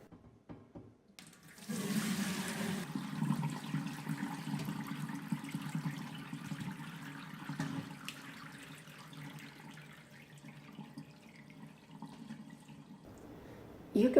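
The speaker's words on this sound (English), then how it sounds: "Drain the curds into a fine mesh colander or a cheesecloth lined" Cheese curds and whey are drained into a fine mesh colander, with a steady, moderately loud pour and splash of liquid that runs for several seconds before tapering off.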